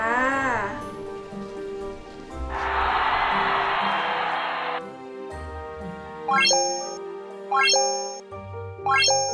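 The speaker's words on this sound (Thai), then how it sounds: "ก็ฝากกดกระดิ่งแจ้งเตือนไว้เลยนะคะ" A bright notification bell dings three times in quick succession near the end, each a clear ringing chime, following a brief burst of noisy hiss and softer tones earlier, with no talking.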